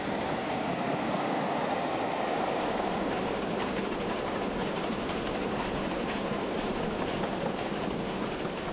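Taw Valley steam locomotive passing near Woking, heard as a steady, loud, continuous rumble of wheels and rolling stock with no distinct chuffing, filling the whole span.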